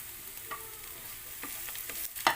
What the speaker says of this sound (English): We can put our garlic.